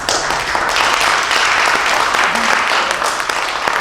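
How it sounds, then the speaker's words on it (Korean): An audience at a Korean national founding day and liberation day ceremony claps loudly and evenly throughout, a dense wash of applause with a voice faintly underneath. "박수 좀 쳐봐요"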